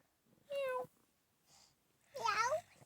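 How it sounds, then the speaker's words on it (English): A black cat gives two clear meows, one short and one longer, with a brief faint sound between them in an otherwise quiet room. "Watch out, little black cat."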